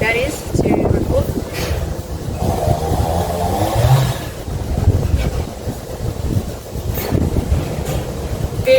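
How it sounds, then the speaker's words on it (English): Strong gusts buffet the microphone with loud, rough rumbling that swells and fades throughout, nearly drowning out everything else. "Very, very windy today."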